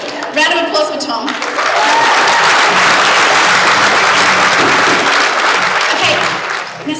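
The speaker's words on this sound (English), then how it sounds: "Round of applause for Tom." A church congregation in Melbourne applauds a man named Tom during a sermon, a loud, dense wash of clapping that swells after a short spoken phrase and holds steadily for several seconds before easing slightly.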